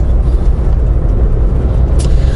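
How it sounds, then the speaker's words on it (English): A diesel car engine runs at a steady, loud, low rumble up close, holding an even drone throughout with no one speaking. "It is, if you can hear, diesel. And it's bloody slow."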